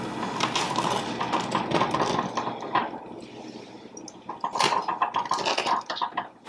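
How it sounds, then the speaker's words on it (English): A knife saws into a freshly baked soda bread loaf, giving repeated crackly crunches and rasping strokes through the crust, close and fairly loud. "So I'm going to cut into this bad boy."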